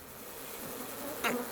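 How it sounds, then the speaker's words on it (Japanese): Bee wings buzz in a steady, close drone that swells briefly near the end, heard on its own and fairly quiet. "すごい羽音。"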